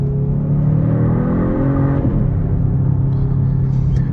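A steady low engine drone and exhaust rumble fill the cabin of a 2022 Genesis G70 AWD, muffled as heard from inside the car, with a slight rise in revs midway.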